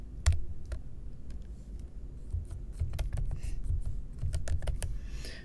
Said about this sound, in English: we are going to start typing our script out